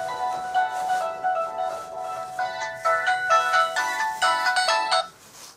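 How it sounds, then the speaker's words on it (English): A mobile phone ringtone plays a melodic electronic tune in repeating bursts, fairly close and clear, for about five seconds in a quiet workshop. "There goes my phone."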